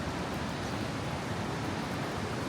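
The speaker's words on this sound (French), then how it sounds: "quand on est près de la cascade, que d'ailleurs on pourrait toujours entendre" A powerful waterfall by a sea cave in the Scottish Highlands roars as a dense, steady wash of broadband noise. It is loud and close, with no break and no voices.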